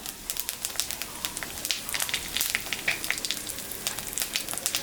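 Dry red chillies and cumin seeds temper in hot oil left from frying fish, giving a faint, steady crackle with quick spitting pops and no voices.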